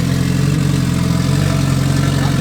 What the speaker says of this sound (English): So I guess I can run this just to idle it from time to time.